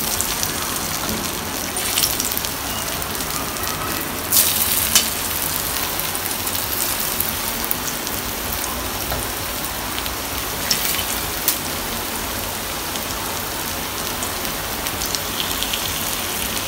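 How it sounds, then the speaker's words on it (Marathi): Leaf vadi (bhavri leaf rolls) frying in hot oil on a tawa, giving a steady, even crackling hiss throughout with a few brief louder spatters, no talking. "आता आपण वडी सोडणार आहोत एक एक."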